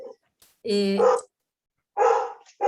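A dog barks loudly and close by, a few strong, rough barks with pauses between them, heard alone without talk.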